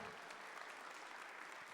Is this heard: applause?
yes